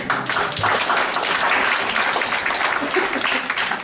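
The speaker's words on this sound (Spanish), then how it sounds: "¿Cuántos pueden dar un aplauso al Señor?" Congregation applauding in a church, dense sustained clapping from many hands filling the room at an even, loud level, with some voices underneath.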